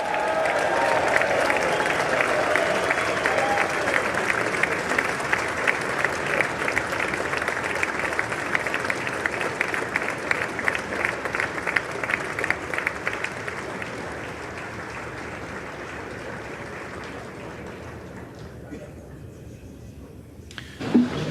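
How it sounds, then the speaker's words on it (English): Sustained applause from members of Congress greeting the First Lady at a presidential address, steady clapping filling a large chamber for most of its length before thinning out near the end, with faint crowd murmur underneath. "Let's just go and hear the applause."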